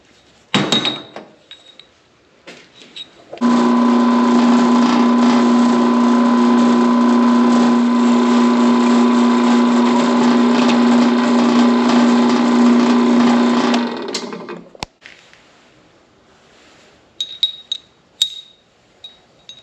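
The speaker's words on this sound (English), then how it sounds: "I've got to drill some holes in these pins" A drill bores into a steel pin with a loud, steady whirring drone held for about ten seconds, then winds down, bracketed by scattered metallic clinks and taps in a workshop.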